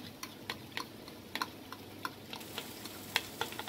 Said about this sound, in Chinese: 然后炒，炒到有那个味道